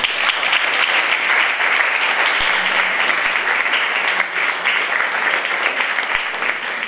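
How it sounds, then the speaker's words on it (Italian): Audience giving sustained applause, a dense even roar of many hands clapping that continues throughout with no break. "E quindi questo, un bel applauso lo farei a Iuri."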